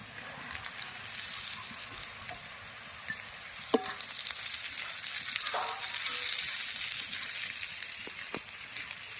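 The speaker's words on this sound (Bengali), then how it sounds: "কুঁদরি দিয়ে আর এক মিনিট নেড়ে নিয়েছি" Ivy gourd being stirred in a pan with fried onions gives a steady, close sizzle with soft scraping stir strokes and a few sharper clicks of the spoon against the pan.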